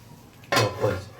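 A lid is set down on a pot of poha to steam it, making one sharp close metallic clatter followed by a short ringing rattle.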